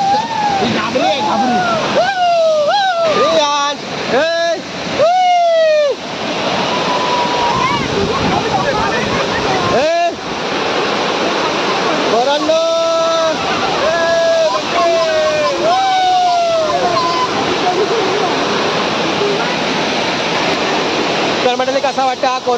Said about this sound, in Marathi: तर मंडळी कसा वाटतं हा कोंडीच्या वरचा धबधबा